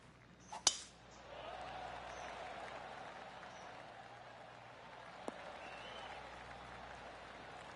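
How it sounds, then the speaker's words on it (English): In PGA Tour 2K23, a light scattering of polite golf applause rises softly from a distant crowd after a sharp clink, lingering quietly in the background. "Oh, golf clap."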